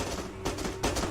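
Gunfire in an animated horror story, a couple of close, loud bursts over a thick, noisy rumbling background, with no voices.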